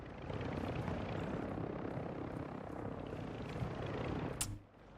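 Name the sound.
helicopter flying in a video game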